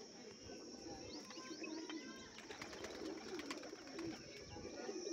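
High-flyer pigeons, a Teddy pair, coo and call steadily throughout, with faint chirps from other birds, all close and moderately quiet.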